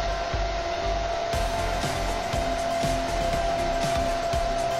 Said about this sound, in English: I am going to lock in the look a little bit quicker with the Chi Lava Diffuser and Hair Dryer.